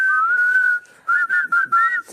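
Someone whistles a short melody up close, a few sustained notes followed by quick broken phrases with brief pauses between them.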